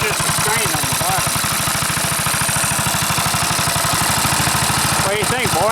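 A rebuilt 1955 Cushman Eagle engine runs on a test stand, idling with a loud, rapid, even thumping pulse that stays steady throughout, and brief voices come in near the end.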